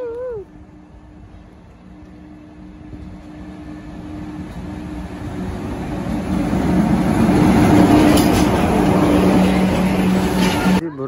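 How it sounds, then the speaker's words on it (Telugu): A train passes through the Araku Valley, its low rumble swelling steadily to a loud, close roar, with faint high squeals near the end. "అరకు వాళ్ళు ఫస్ట్ టైం చూస్తున్నాం ట్రైన్."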